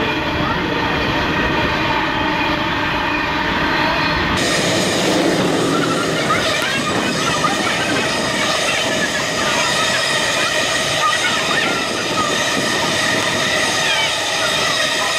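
A long coal train rumbles past up close, with loud continuous wheel noise, clanking cars and occasional metallic squeals.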